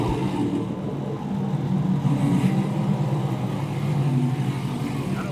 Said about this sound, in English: you guys can hear that the Corsa exhaust on my C7 is absolutely amazing